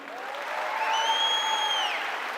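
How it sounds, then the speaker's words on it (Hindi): An audience at a stage event applauds steadily for a couple of seconds, a soft, even patter of clapping heard from a distance. "एक बार जोरदार तालियां उनके लिए।"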